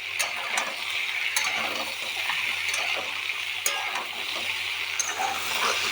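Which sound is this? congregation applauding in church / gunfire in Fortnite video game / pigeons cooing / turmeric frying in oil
turmeric frying in oil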